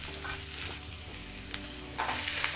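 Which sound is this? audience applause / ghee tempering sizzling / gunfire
ghee tempering sizzling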